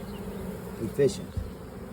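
Honeybees buzzing during a hive inspection shortly after a nuc installation, a steady low hum with a brief louder swell near the middle, heard alone without talk.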